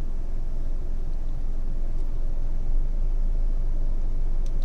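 A car in a driving lesson creeps forward as the clutch is slowly released, giving a low, steady engine and road rumble inside the cabin, with a slight swell partway through and no talk.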